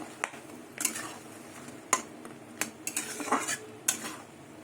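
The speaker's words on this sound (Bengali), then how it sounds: "কড়াইটা বসিয়ে দিয়েছি" A metal wok set down on a gas stove while cooking a dal and egg kofta dish, giving several sharp, separate clanks and clatters of cookware against a quiet kitchen background.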